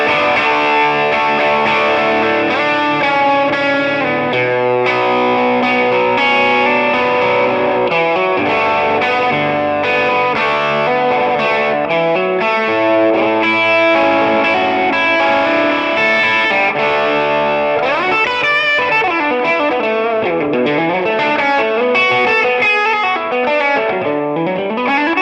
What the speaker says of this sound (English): now let's push the amp with a tube screamer and see how that sounds.